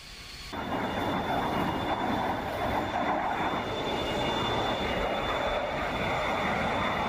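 Steady, loud roar of an A-10 jet's engines while taxiing in the DCS flight simulator, rising abruptly after a quiet first half-second, then holding an even whine and rumble with no talk.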